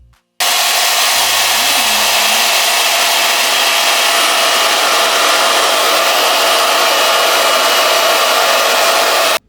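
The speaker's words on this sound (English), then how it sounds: "So just for reference, here's how it sounds." A RevAir hair dryer switches on and blows with a loud, steady whoosh that continues without a break.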